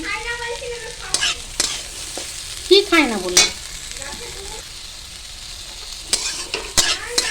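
Vegetables, including fig and kohlrabi, sizzle in a frying pan under repeated close, clattering stirring strokes with a spatula, and a brief spoken remark comes through partway.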